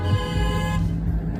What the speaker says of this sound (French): Et là, il y a les klaxons.